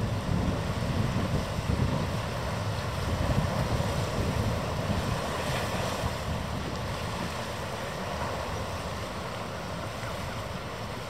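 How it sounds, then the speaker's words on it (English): The Waiheke ferry passes on open water, a broad rushing wash of engine and waves under gusty wind buffeting the microphone, fairly loud early and easing off slightly toward the end. "Must be the Waiheke ferry."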